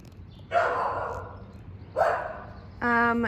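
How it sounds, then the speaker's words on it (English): A dog lets out drawn-out barks, three in all spaced about a second apart, the last one sharper and more tonal. "all you're gonna hear now is Olive barking"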